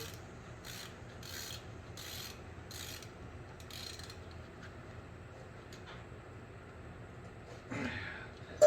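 A hand torque wrench tightens front brake bolts on a 2014 Nissan Altima, giving a faint, rhythmic ratcheting and rubbing series of clicks, ending with a sharper metallic click.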